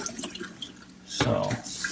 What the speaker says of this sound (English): raw sesame seeds. And I'm going to wash them.